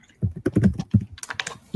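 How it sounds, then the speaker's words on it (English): Fingers type quickly on a computer keyboard nearby, a dense run of crisp key clicks with a brief lighter patter near the end, no talking over it. "Oh, I love that typing ASMR."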